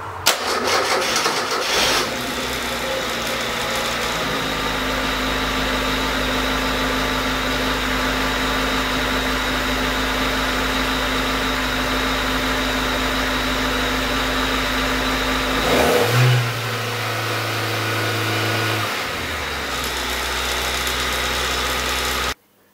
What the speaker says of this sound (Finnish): Ja tosiaan lyödään auto käyntiin